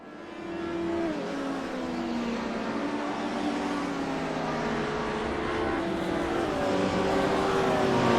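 Race cars roar past on a racing circuit after exiting the Parabolica, engines sustained and loud with rising and falling pitch sweeps as they pass, building in volume toward the end.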